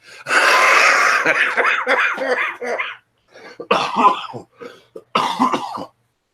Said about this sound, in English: You're starting to get a smoker's cough there a little bit there